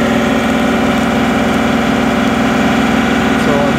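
A John Deere 2038R compact tractor engine holds steady at its rated 2,500 RPM, a loud, continuous mechanical drone with an even, unchanging pitch throughout and no break in the sound.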